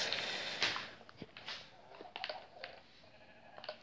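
Sheep bleating in the Minecraft video game, a few short, faint blocky bleats and clicks scattered over a quiet, steady background.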